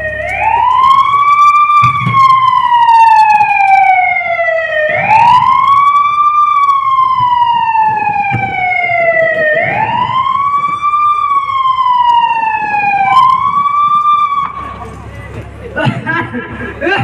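Ambulance siren wailing loudly and close, its pitch sweeping up and down in slow repeated cycles for most of the stretch before cutting out, followed by a moment of crowd noise.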